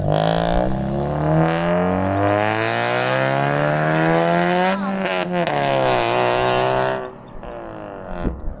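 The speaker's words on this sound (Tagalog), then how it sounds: "Naka-muffler lang talaga kaya mukhang pangarera." A car with a stock engine and an aftermarket muffler revs up loudly and steadily, its pitch climbing and sinking over several seconds before cutting off abruptly into quieter background noise.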